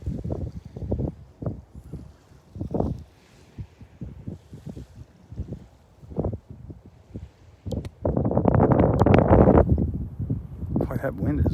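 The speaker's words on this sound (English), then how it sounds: "Boy, that wind is blowing out here." Wind gusts roar on an open beach by a shallow channel, buffeting the microphone in bursts and swelling into a loud, sustained blast near the end, with a voice talking in between.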